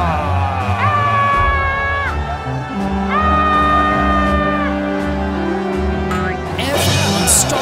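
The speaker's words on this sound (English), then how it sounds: "Everyone started screaming and making a lot of noise." An animated crowd of voices screaming and yelling together at the walls of Jericho, loud and sustained, with some long wailing cries rising above the din.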